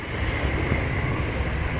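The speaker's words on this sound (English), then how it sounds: "there's a train going past every time you shoot a video" A train passes nearby as a steady, broad rumbling roar that stays level and fairly loud throughout, heard alone with no talking.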